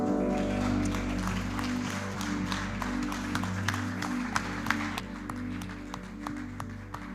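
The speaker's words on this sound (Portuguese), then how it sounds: "Aplauda e glorifica o nome dele." Church congregation applauding during a worship service, steady broadband clapping sustained throughout over sung music with held organ-like tones beneath.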